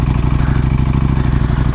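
Ducati Panigale V4R motorcycle with an Akrapovic exhaust, its V4 engine holding a loud, steady throbbing idle with a fast pulsing beat and mechanical clatter throughout, close by and with no talk.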